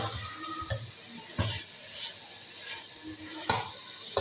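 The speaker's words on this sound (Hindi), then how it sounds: "अब हमने इसमें डाल देना है चिकन और चिकन को भी भून लेंगे।" Chicken sizzles as it fries in spice masala in a pan for qorma. A steady hiss runs throughout, broken by periodic scraping stirs, close and at moderate volume.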